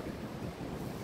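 Morning wind on a beach in Bali, a steady broadband rushing and buffeting with surf-like noise, continuous and fairly loud against the microphone, no speech.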